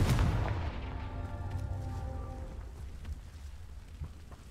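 In the Hogwarts Legacy video game, the Confringo fire spell goes off as a single booming blast, its rumbling tail fading slowly over several seconds, with faint crackles and soft thuds trailing behind.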